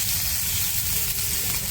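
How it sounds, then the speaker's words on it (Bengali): Ginger and garlic paste stir-fried in a pan, giving a loud, steady sizzle and hiss that runs unbroken and close for the whole short stretch, with no voices. "এবার দিয়ে দেবো রসুন বাটা, দিয়ে ভালো করে আরেকটু কষিয়ে নেবো।"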